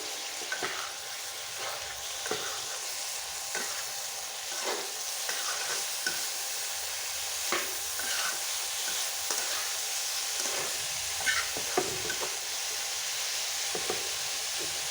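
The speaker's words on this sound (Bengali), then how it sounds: "এখন কেটে রাখা কলার থোড়টা দিয়ে দেবো। দিয়ে ভালো করে নেড়ে নেব।" Sliced banana stem and dried fish fry in a pan, crackling and sizzling steadily, with intermittent scraping stirs and soft clicks throughout, close and moderately loud with no voices.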